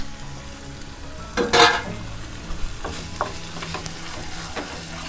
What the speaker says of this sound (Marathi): अलगद हाताने असं ढवळून घ्यायचं